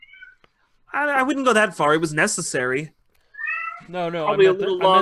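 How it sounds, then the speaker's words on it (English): An angry cat meows loudly at close range, and people talk over and around the cries. "that cat sounds pissed."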